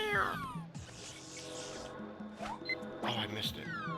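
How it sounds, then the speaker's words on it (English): A cat meow from the Pokemon Snap video game, a couple of drawn-out calls mixed with game sound effects and background noise, with talking over parts of it. "All you guys are hearing is meow, meow, meow."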